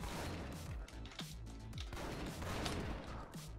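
Rapid gunfire from a newly picked-up gun in the brawler video game Mother Russia Bleeds, loud repeated shots in bursts mixed with impacts and game action.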